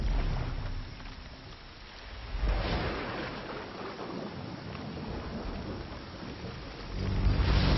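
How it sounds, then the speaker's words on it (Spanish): Violent tropical thunderstorm in the jungle, steady heavy rain roaring close with low rumbling thunder that swells near the start and again at the end, no voices. "Se desata una violenta tormenta tropical."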